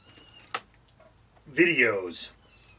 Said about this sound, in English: there's a kitten crying in the background and its mother trying to comfort it